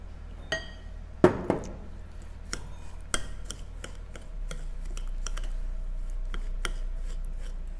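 A spoon mixes melted butter into a cheesecake crumb base in a bowl, with sharp clinks and knocks against the bowl early on, then steady gritty scraping and stirring, close and fairly quiet.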